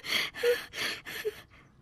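A man loudly clears his throat in four rough, raspy bursts with brief breaks between them, followed by a fainter fifth exhale, close and with no talking.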